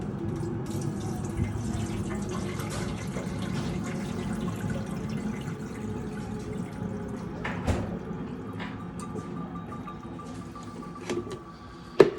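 Water from a pitcher is poured into a coffee maker's reservoir, a steady, fairly soft trickling splash that tapers off toward the end, followed by a sharp plastic click.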